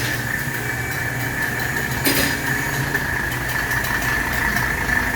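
A 1983 Mercedes 300D diesel idles steadily nearby with a constant low drone and a faint whine, plus one brief clatter partway through; no one speaks.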